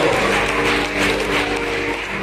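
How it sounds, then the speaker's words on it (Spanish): Church congregation applauding during a sermon, a dense, sustained wash of many hands clapping at steady loudness, filling the room. "Y los que lo creen, aplaudan el nombre del Señor."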